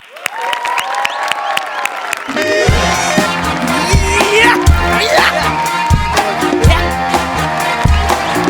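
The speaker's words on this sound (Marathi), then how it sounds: "जोरदार टाळ्या" A theatre audience bursts into loud applause and cheering at a Marathi comedy stage show, with a short musical flourish before dense clapping and whoops take over and continue to the end.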